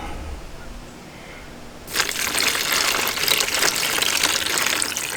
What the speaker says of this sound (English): Now I'm going to add just a little water.